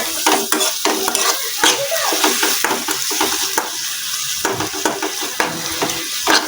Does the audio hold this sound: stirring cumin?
yes